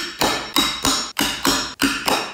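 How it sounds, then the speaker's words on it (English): A hammer strikes a center punch set on wood in four evenly spaced, sharp metallic taps, each ringing briefly, close and fairly loud with no talking. "Give it two taps."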